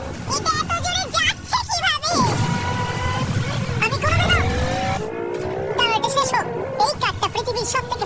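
A carbon-fiber supercar with a twin-turbo V8 speeds along with a roaring engine and squealing tires, while voices talk excitedly over the noise.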